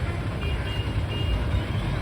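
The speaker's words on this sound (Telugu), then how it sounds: "ఇక్కడ ఒక బస్సు వచ్చింది" A bus pulls in at a roadside stop on the way to Mydukur, its engine a low steady rumble close by with faint high whines above, no talk over it.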